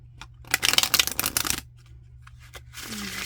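A deck of reading cards is shuffled by hand in a quick riffling burst up close. Then come a few faint taps and a soft rustle against quiet room noise.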